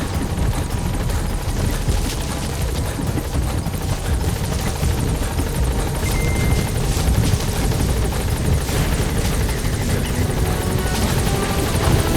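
The Pequod helicopter from Metal Gear Solid V arrives at a landing zone, its rotors and engine making a loud, constant throbbing roar that continues steadily without a break.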